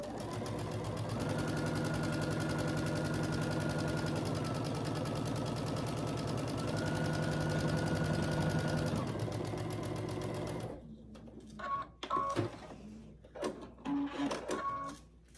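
A sewing machine stitches a pinwheel quilt block along each side of a marked line, whirring steadily for about ten seconds before stopping, followed by scattered handling clicks and clatter.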